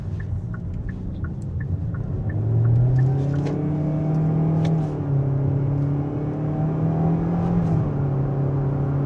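A 2025 Kia Soul EX Soulmate Edition with a CVT that simulates gears, accelerating in Sport mode: a steady in-cabin engine drone rises in pitch, eases at a simulated shift, then climbs again beneath road rumble.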